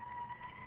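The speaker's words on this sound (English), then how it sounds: "I don't know if you can hear the siren" Emergency vehicle siren on a city street near the White House on K Street, a steady high wailing tone held through the short moment over low traffic rumble, moderately loud with no talking.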